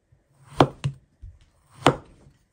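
Raw bananas being chopped with a knife for banana chips, giving three or four sharp, close chopping thuds spaced irregularly with short gaps between them.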